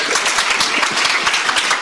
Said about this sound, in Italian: Fate un altro applauso